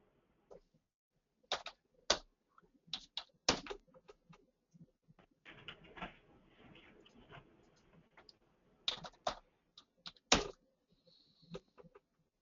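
A computer keyboard is typed on during a login, in scattered quick bursts of soft clicks with short pauses between. A brief rustle sits in the middle, and the whole is faint, close and without talk.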